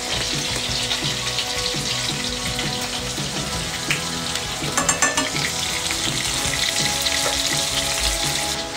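Onion frying in a pan, a loud continuous sizzle with stirring scrapes and a brief burst of sharper crackling midway, heard alone without talk.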